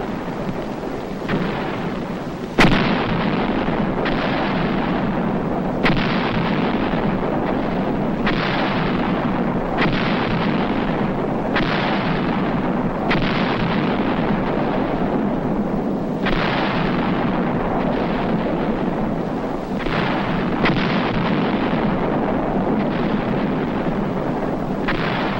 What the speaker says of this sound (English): The 105 howitzers commence their mission.